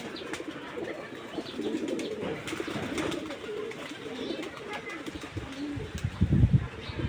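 Pet pigeons, a paired couple among others, coo softly indoors while bathing and preening, with low murmuring calls, light rustles and a brief louder flurry near the end, all faint and close.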